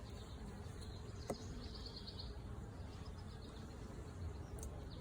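Honeybees buzz around an open hive while the frames are inspected. The buzzing is a faint, steady drone with a few brief louder passes close by and a single sharp tap.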